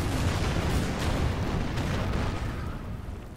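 Artillery barrage in the Order of Battle strategy game, heard as a dense rumbling roar of distant blasts that stays loud and then slowly fades.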